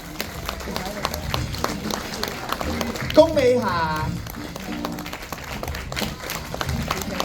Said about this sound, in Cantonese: 繼續掌聲